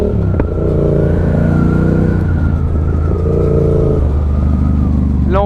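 A motorcycle on a licence-training course accelerates into a slalom at about 40 km/h, its engine note droning loudly and rising and falling in pitch as the throttle is worked, with a brief higher whine at the end.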